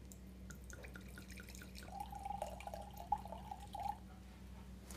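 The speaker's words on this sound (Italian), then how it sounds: "sarà anche nel modo di servire l'acqua che sarà esattamente come quando andiamo a servire un vino" Acqua Filette bottled water is poured into a glass the way wine is served, making a soft, gurgling trickle that lasts about two seconds against a quiet, faintly humming room.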